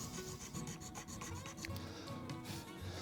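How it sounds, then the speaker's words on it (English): A small 42 gauge nut file scrapes the string slots of a replacement nut on a 1970s Fender guitar in quick, soft rasping strokes, close and quiet, without any talk. "I'm going to start with a 42 gauge. It's just a matter of filing it out."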